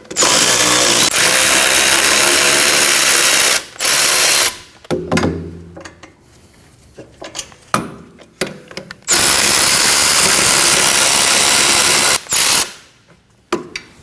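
Power tool whirring in bursts while the caliper bracket bolts come off the rear brake of a 2011-2016 Kia Optima, with long loud runs separated by short pauses and clanks.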